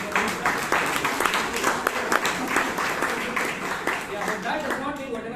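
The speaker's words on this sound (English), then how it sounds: "can we have a big round of applause for Puneet?" Clapping fills a Toastmasters meeting room in Bangalore, a steady dense patter of many hands carrying on without a break from start to finish, fairly loud and close, with no talk over it.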